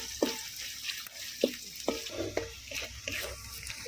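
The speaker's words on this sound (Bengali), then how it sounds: "একটু ভালো করে ভেজে নেব।" Bay leaves, cardamom, black pepper and cloves frying in oil in a pan, a low steady sizzle with repeated clicking stirs and scrapes at an uneven rhythm, close up.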